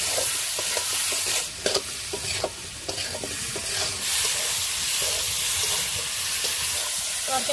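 Pakal fish curry with salt, turmeric, chilli powder and a little water is stirred and braised in a hot pan, giving a loud continuous sizzle with repeated scraping and clinking of the spatula, no talking.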